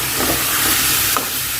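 Cucumber with chili and turmeric is stirred in a hot pan, giving a steady hiss and sizzle with a few soft scraping strokes of the spoon, close and continuous.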